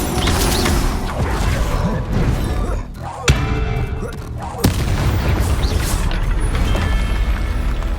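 A Confringo spell explodes in the video game Hogwarts Legacy, with two sharp, loud booms cutting through dense, continuous combat noise and clattering mechanisms.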